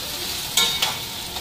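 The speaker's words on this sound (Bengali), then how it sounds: "এইদিকে বড়াগুলিও ভেজে নিতেছি" Ash gourd fritters fry in a pan with a constant close hiss of oil, marked by two quick clicks from a utensil.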